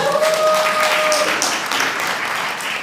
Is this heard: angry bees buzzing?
no